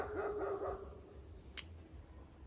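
A neighbour's dog barks a few times in quick succession at the start, fairly close, then only faint outdoor background noise remains in an orchard setting.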